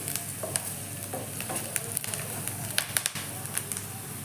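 Onion frying in oil with ajwain and fennel seeds for a crispy potato snack, a continuous close sizzle with scattered pops and spatula scrapes.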